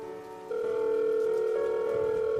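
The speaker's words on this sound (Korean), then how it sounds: "손을 대충 닦아내고 다시 장갑을 낀 지훈은 휴대폰을 열고 김 형사에게 전화를 걸었다" Phone ringback tone in a Korean horror story narration, a steady electronic tone that starts faintly and then holds loud and constant without pause, with no talk over it.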